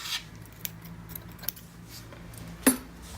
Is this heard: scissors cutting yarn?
yes